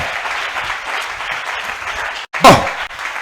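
A church congregation breaks into sustained, dense applause that fills the room at an even level, cuts off briefly, then returns with a louder burst near the end.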